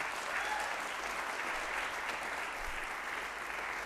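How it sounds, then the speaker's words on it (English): A crowd applauds the company Visolis at a NASDAQ closing bell event in New York, continuous dense clapping that stays steady and even from start to finish. "So let's have a round of applause for Visolis."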